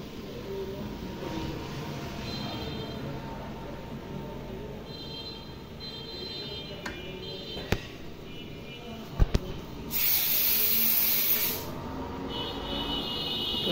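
Gas hisses from a valve while one cylinder refills another, a low steady rush with a few sharp metallic clicks and a short loud spray burst midway.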